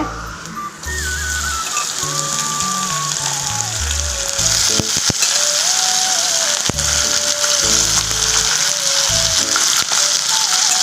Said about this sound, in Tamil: இப்போ நம்ம இந்த பிரண்டையெல்லாம் சேர்த்து நல்லா வதக்கலாங்க எண்ணெயிலே